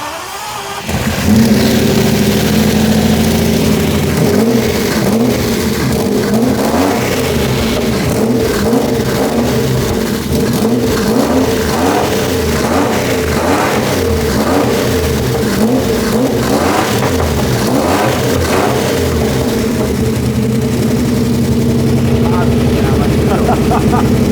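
A loud Mercedes W210 E-Class-based engine, not firing properly, revs and rumbles continuously up close, with an uneven, lumpy pulse through the drone suggesting rough running.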